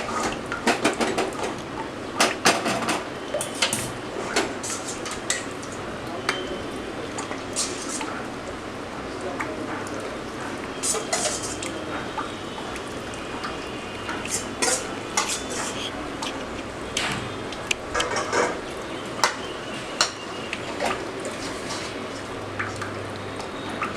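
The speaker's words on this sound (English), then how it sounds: "So finally let us add the remaining gravies" A spoon scrapes and taps in a pot as leftover chicken gravies go onto a rice layer for chicken dum biryani, with scattered close clinks and scrapes at irregular intervals and a person talking throughout.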